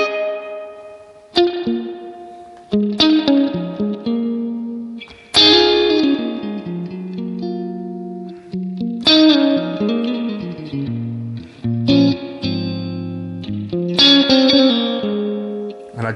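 Electric guitar through a Strymon Volante tape delay pedal with its spring reverb turned all the way up, playing loud plucked notes and chords whose wet, splashy tails ring out and decay between phrases, with no talking.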